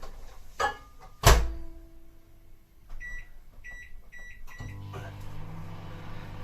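Door clunks and button beeps start a microwave heating wax for nose waxing, which then hums steadily with a low drone; beeps ring in the middle and a voice speaks briefly.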